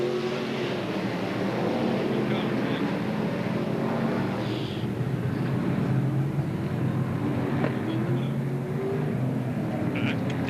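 BriSCA Formula One stock car engines roar at a Northampton race, a dense continuous engine din with cars passing, under a commentator's voice.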